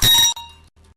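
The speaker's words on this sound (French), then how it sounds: "ces instruments sont accompagnés de la cloche qui rythme les pas des danses" A single loud clang from a metal ritual bell used to keep time for traditional African dance steps, bright and ringing, then a long fading tone with a softer tap near the end.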